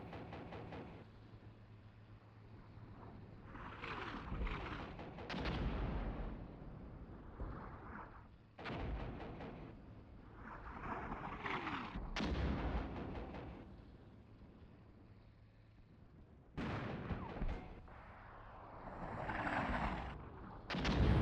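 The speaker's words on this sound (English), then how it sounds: "Take a lot of indirect fire." Artillery fire in the video game Armored Brigade 2 lands as repeated heavy, booming impacts over a low rumbling battlefield bed, several loud blasts spaced irregularly across the stretch.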